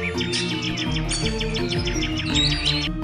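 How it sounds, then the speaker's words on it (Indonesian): Many birds chirp and sing together in a dense, steady chorus, with overlapping tweets and whistles running for a few seconds and no talking. "melihat burung-burung yang sangat indah bunyinya"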